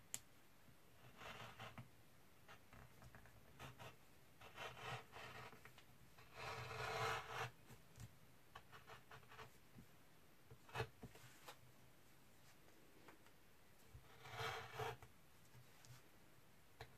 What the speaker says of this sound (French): Et là, j'ai eu l'idée de découper au niveau des feuillages pour pouvoir faire un peu en relief. Donc avec le cutter de précision.